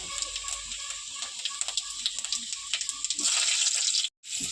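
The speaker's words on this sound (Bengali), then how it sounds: "তেল গরম হয়ে গেছে এর মধ্যে দিচ্ছি ফোড়ন ফোড়ন বলতে আমি দিচ্ছি সামান্য পাঁচ ফোড়ন আর কয়েকটা কাঁচা লঙ্কা" Panch phoron and a few green chillies dropped into hot mustard oil in a kadai give a close, steady sizzling hiss with small crackles, growing fuller toward the end before a brief cutoff.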